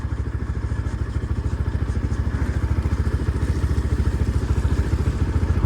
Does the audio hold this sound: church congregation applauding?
no